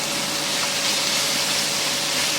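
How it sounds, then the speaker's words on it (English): Steady, dense sizzling hiss from ground beef frying in a hot pan, continuous and fairly close, with no voices. "So you're going to hear a little bit of sizzle."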